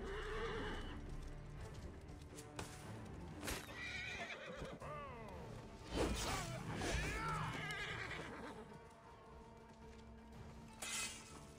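A horse in the video game Assassin's Creed Origins neighs and whinnies with a shrill, wavering cry amid hoof clatter and crashing game sounds, moderately loud and repeated over several seconds.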